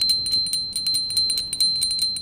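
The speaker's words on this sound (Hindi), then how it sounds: "ऊपर ऐसे घंटी रहेगी।" A small hand bell rings continuously during a Hindu aarti, shaken in a quick, steady rhythm that produces bright, closely spaced metallic chimes with a sustained ringing tone.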